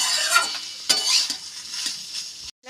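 Spices sautéed in a pan and stirred with a utensil give a soft sizzle with sharp scraping strokes, close and without talk, ending in an abrupt cut.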